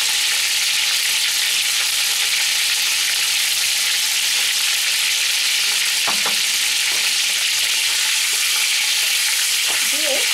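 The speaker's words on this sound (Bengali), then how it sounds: "দিয়ে আমি পটলটা একটু ভেজে নেব।" Pointed gourd (potol) pieces seasoned with turmeric and salt sizzle steadily in hot oil in a home kitchen, a continuous frying hiss with a few soft clinks of stirring and no talk.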